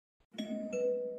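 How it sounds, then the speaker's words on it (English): A two-tone doorbell ding-dong in the video game Welcome To The Dark Place, a clean electronic chime with a lower second note that rings out and sustains, alone and moderately quiet. "There is a doorbell. Listen."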